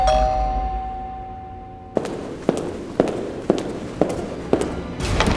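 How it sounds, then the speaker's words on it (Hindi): A single doorbell chime rings and slowly fades, then a series of sharp, evenly spaced knocks or bangs follows, close and loud. "तभी घर की घंटी बजती है।"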